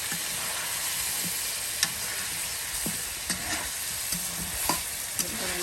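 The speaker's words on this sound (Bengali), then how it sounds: "এই যে দেখুন মাংসগুলো একদম মশলার সাথে তেলের সাথে একদম ভেজে নেওয়া হলো।" Chicken pieces fry in oil with spices in a pan, a steady low sizzle with occasional soft stirring clicks and scrapes, close and continuous with no talking.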